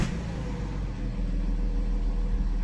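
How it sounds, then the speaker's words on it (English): A BMW F11 engine with a newly fitted turbo runs at a steady idle, a continuous low rumble close by with no voices. "the engine sounds amazing"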